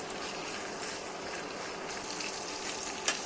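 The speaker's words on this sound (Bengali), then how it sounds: "খুদের ভাত রান্না করার জন্য তেজপাতার পেঁয়াজটা ভেজে নিচ্ছি" Chopped onion and bay leaves frying in a pan for broken-rice khuder bhat, a soft, steady sizzle at low level with a faint watery crackle and a small knock near the end.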